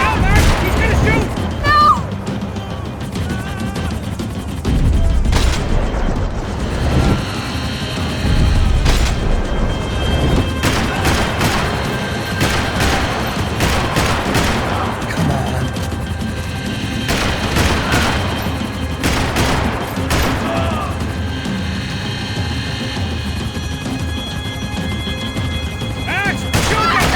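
Gunfire in the Max Payne 3 video game during a chase, with scattered volleys of shots and booming impacts over a long, busy stretch, while characters shout over the action.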